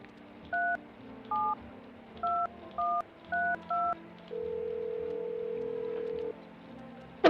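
Telephone dialing tones in a retro-style video game: six short beeps in an uneven rhythm, followed by a longer steady tone, clear and fairly quiet with no talking.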